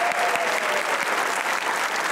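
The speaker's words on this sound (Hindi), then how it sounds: "सबसे पहले ऑडियंस के लिए तालियां।" Hearty studio audience applause on a Pakistani comedy talk show, thick continuous clapping with a faint murmur of voices underneath, steady and loud throughout.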